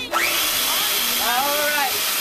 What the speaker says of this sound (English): I don't usually work around power tools, so this part always gets me a little nervous.